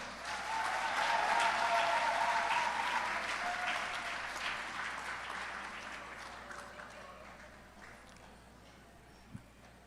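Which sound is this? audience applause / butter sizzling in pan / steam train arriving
audience applause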